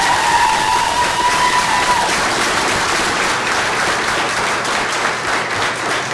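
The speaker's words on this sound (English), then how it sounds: "another round of applause for Stephanie" Sustained applause fills a board meeting room in honor of Stephanie, a dense steady clapping from the gathered crowd lasting the whole stretch, with a brief whistle-like tone near the start.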